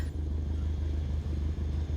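Simulated aircraft engine idling as the plane taxis onto the runway in Microsoft Flight Simulator, a steady low droning rumble with a few faint clicks, constant and moderately loud, no talk.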